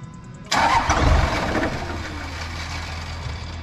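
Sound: 5.9 Cummins diesel engine cranking

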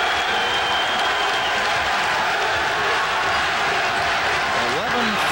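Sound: basketball arena crowd cheering and applauding

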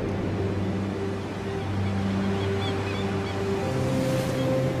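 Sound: sea waves

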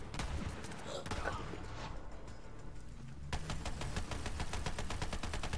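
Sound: Gatling gun firing in the Borderlands 3 video game

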